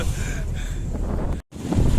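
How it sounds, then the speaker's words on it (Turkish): Wind buffets the microphone in loud, rumbling gusts on a boat tour off Kekova, with a brief cutout near the end before the blustering resumes. "Ah bir rüzgar var anlatamam."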